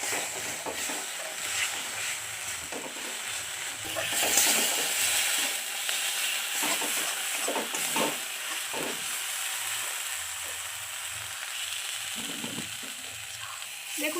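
A watery paste of turmeric, cumin, coriander and chili fries in oil in a pan, a moderate, close sizzle with scraping stirring strokes scattered throughout, no talk.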